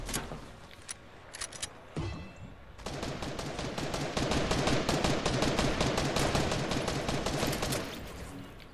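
Pistol gunfire in Fortnite Battle Royale, a few scattered shots followed by a long rapid string of sharp cracks, loud and close, with no talk.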